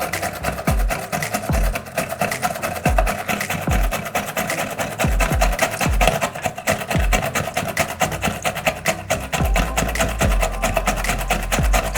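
Food being grated on a hand grater for a homemade fruit salad: loud, steady rasping strokes close up, repeating in a quick, regular back-and-forth rhythm with no pauses.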